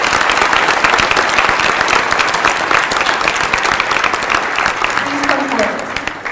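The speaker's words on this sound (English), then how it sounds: "Let's give them a round of applause." An audience at a senior celebration of excellence claps continuously for scholarship recipients, a loud, dense wash of applause that holds steady and tapers slightly at the end, with a voice faintly audible beneath it.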